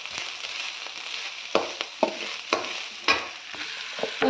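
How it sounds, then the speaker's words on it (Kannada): Grated coconut mixture frying and being stirred in a pan, a steady sizzle broken by repeated scraping strokes of a spoon against the pan, close and clear with no talking. "ನೀಟಾಗಿ ಈ ಥರ ನೀಟಾಗಿ ಫ್ರೈ ಮಾಡ್ಕೊಬೇಕು"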